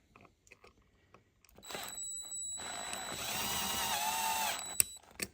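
A small power drill bores out the rivet on a Hot Wheels die-cast toy car, short taps first, then a steady whirring grind that ends in a sharp pop as the bit breaks through.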